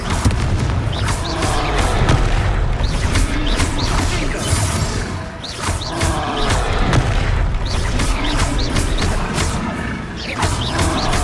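Confringo fire-spell blasts in the Hogwarts Legacy video game, a continuous roar of repeated explosive booms and crashing impacts during a combat fight, loud and dense with no pauses.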